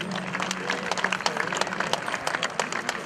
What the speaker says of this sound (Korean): 관중 여러분도 자 가만히 계시면 좀 추우니까 큰 박수를 부탁드리겠습니다.